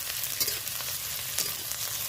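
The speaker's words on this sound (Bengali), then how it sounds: "কেটে রাখা পেঁয়াজ রসুন দিয়ে দিলাম" Chopped onion and garlic fry in a pan, a steady close sizzle with faint stirring scrapes, with no talking.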